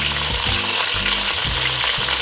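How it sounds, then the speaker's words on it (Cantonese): Onions sizzle loudly alongside fried chicken wings in a hot pan, a dense unbroken crackle of oil with a faint repeating low hum pulsing underneath, no one speaking. "嗱，加啲洋葱落嚟整香一嘅"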